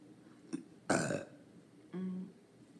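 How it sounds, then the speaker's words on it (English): One loud, close burp after a dose of NyQuil, following a couple of softer throat noises, then a short low vocal grunt. "Oh, NyQuil burp."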